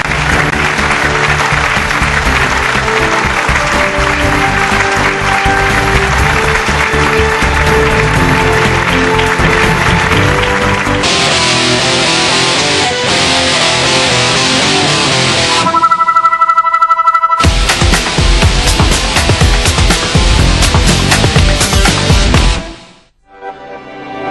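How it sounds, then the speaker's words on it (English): Sustained audience applause fills an awards ceremony hall, dense and loud for several seconds before giving way to music, which cuts out briefly and returns. "Huge round of applause for the Pashim Group"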